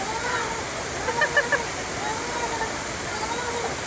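A waterfall pours steadily with a broad, constant rush where people are bathing, the splashing close by and a few voices and soft babble mixed into the flow.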